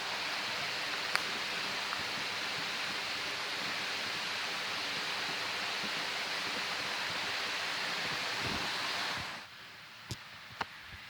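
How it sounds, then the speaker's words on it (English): A creek's flowing water makes a steady, loud broadband rush for about nine seconds before cutting off abruptly to near silence, with a few faint clicks and taps afterward. "I got away from that noise of the creek"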